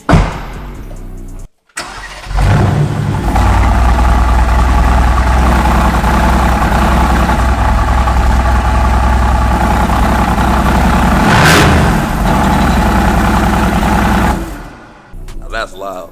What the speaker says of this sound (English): this is the stock German exhaust.